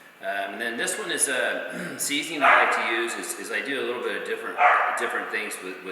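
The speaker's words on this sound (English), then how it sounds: "if you hear that barking, that's our new little puppy that's outside self-quarantine" A young puppy barking outdoors in repeated short yips and barks that come in bursts, moderately loud beneath someone speaking continuously.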